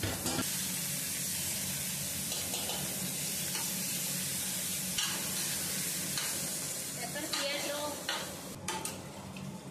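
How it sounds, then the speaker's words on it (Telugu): Chicken dropped into hot oil and onion gravy and stirred in a home kitchen. A loud continuous sizzle and spitting hiss fills the scene, with scraping stirs and a few clinks from the pan toward the end. "ఇక్కడైతే ఆయిల్ అంతా పైకి తేలిన తర్వాత చికెన్ వేసేసి ఒకసారి బాగా మిక్స్ చేసుకోవాలి"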